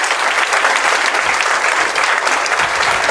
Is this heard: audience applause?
yes